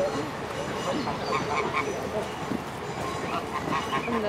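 A flock of Oxford geese honks and quacks continuously nearby, with overlapping calls and some people talking in the background.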